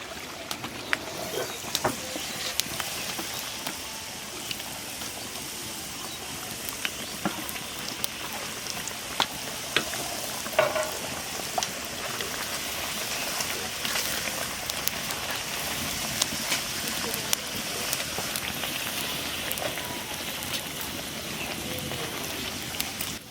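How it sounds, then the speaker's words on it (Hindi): Puri frying in hot oil gives off a steady, dense crackling sizzle that runs evenly for the whole stretch, close and moderately loud with no talking. "तो यहीं पे हम पूरी डाल देते हैं।"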